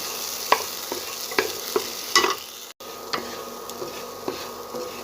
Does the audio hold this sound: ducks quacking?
no